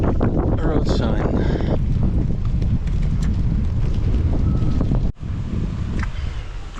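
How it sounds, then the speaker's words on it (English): Strong headwind buffets a bicycle rider on a road in Burgundy, a loud steady roar of wind across the microphone with a brief dip near the end. "There's also a little bit more headwind at the moment."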